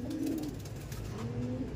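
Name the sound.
white-tail pigeons cooing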